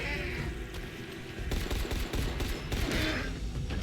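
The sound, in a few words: gunfire in video game Dying Light: The Beast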